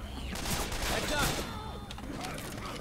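Shotgun blasts fire repeatedly in Left 4 Dead 2 while zombies are fought, a dense run of sharp reports over game noise and chatter, with a voice talking over the shots.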